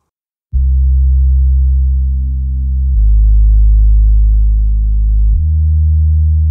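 A smooth, round synth bass plays three long sustained low notes in sequence, clean and steady with no other instruments.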